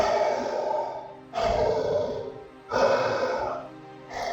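A voice imitates heavy, laboured breathing behind a mask: three long, hoarse rasping breaths in a slow rhythm, each a drawn-out wheeze, close and alone.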